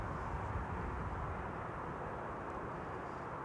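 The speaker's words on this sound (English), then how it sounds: "This Dreamliner is from January 2015." Boeing 787 Dreamliner from January 2015 at Amsterdam Schiphol Airport, a steady broad jet engine rumble heard from a distance, continuous and fairly faint with no talking.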